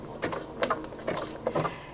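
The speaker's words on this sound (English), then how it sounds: "So I'm going to just start stitching this." Home sewing machine running a blanket stitch on fabric, four short, evenly spaced bursts of clattering needle action, close and moderately quiet, with no talking.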